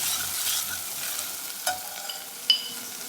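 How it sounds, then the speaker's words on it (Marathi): Garlic and coconut sauté in hot oil in a pan for green moong amti, giving a soft steady sizzle with a couple of faint clicks of a spoon against the pan. "आता याच्यामध्ये आपण घालूया लसूण खोबरं। आपल्याला हे चांगलं 1 मिनिटभर परतायचं आहे।"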